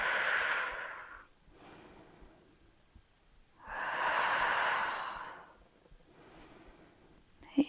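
Long audible breaths taken during a gentle yoga posture, a soft airy inhale followed by a fuller, louder exhale, then a fainter breath, heard close up with quiet gaps between.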